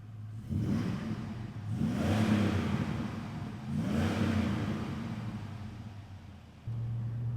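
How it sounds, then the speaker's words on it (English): A supercharged 2000 GMC Sierra pickup truck drives along with a steady engine drone that swells in two broad accelerating surges, heard from inside the cab at moderate level with no talking. "we're out driving in the 2000 GMC Sierra, and this thing drives like a brand new truck"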